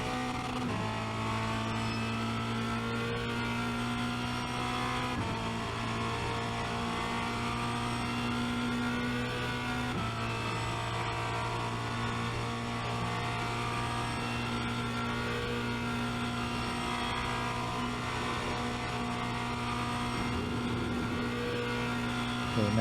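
A Formula Renault 2.0 race car runs flat out at Spa-Francorchamps, its engine a loud, continuous high-pitched drone from onboard that holds steady with brief gear-change dips, with no talking.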